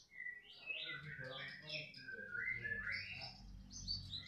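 A murai batu Medan songbird sings close by in quick, varied whistled phrases and chirps, with a low background hum and a voice faintly audible beneath the song.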